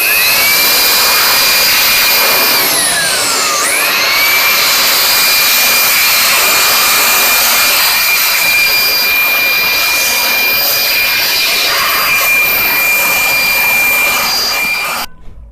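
An air blower cleans a Sharp mini hi-fi cassette tape recorder with a loud, continuous high-pitched whine whose pitch dips sharply once and recovers, running steadily until it cuts off at the end.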